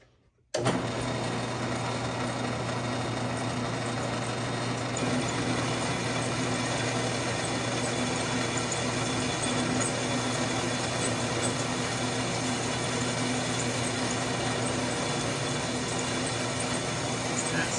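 A bandsaw runs close by with a steady, unbroken mechanical whir and buzz, cutting thin metal stock in a workshop for a long continuous stretch.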